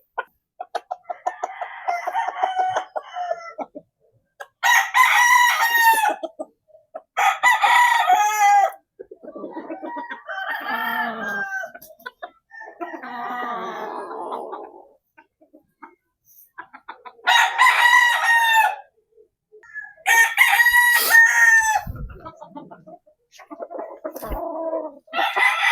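Backyard chickens and roosters crowing and clucking, with several loud, close crows at intervals, interspersed with softer clucks and gaps of near silence.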